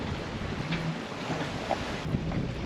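Strong wind of close to 20 knots rushes past a sailboat leaving harbour, a steady broadband roar with microphone buffeting and faint water sounds, no voices.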